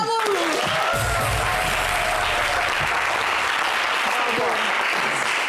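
A studio audience claps loudly and continuously after a live performance on a French entertainment show, with voices and a tonal sound over the applause.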